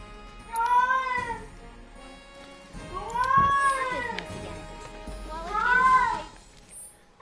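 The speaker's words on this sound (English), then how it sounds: "You guys, I don't know if you guys hear my cat." A house cat meows three times, long drawn-out rising and falling calls spaced a couple of seconds apart, fairly close, over a quiet background without talk.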